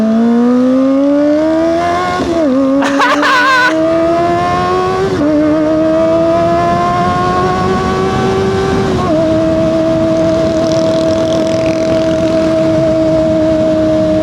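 Kawasaki Ninja ZX25R engine revved hard and held high, a loud screaming tone climbing in pitch, briefly dropping with a crackle near the start, then sustained steadily at a high rev.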